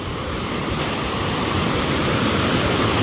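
Broad, steady rushing of a river heard close by, a continuous wash of flowing water with no break and no voices.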